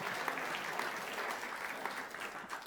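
Audience applause for a program manager at an August 2018 event, a steady wash of many hands clapping throughout, fairly dense and even with no voices standing out.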